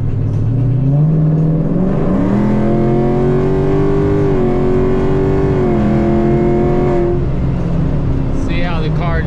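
A Foxbody Mustang with a Coyote V8 swap, Gen3 engine and 10R80 automatic, pulls hard at wide-open throttle. The loud, steady engine roar climbs in pitch through the gears, close and sustained, with brief talk at the end.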